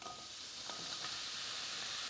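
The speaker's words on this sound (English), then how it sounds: "Then go ahead and add your sliced mushrooms." Sliced mushrooms hit a hot pan of olive oil and butter, setting off a close, steady sizzle with a few crackling pops and light stirring scrapes, with no voices.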